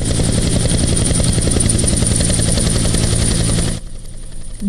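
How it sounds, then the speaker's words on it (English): Loud, continuous rotor thumping and engine whine from a Papua New Guinea Defence Force military helicopter flying in over a parade ground, steady throughout, then cutting off sharply to quieter background. "First, the flying in of the PNGDF helicopter."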